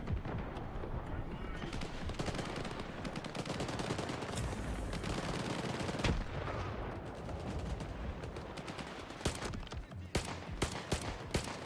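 Enemy gunfire in the shooter game STALKER 2, dense bursts of shots crackling continuously and loudly, with sharper single cracks near the end, while someone talks over the fighting.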